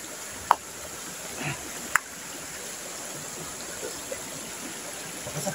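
River water flowing steadily in a video game, a soft, continuous rushing wash with a few sharp clicks and taps on top, no voices.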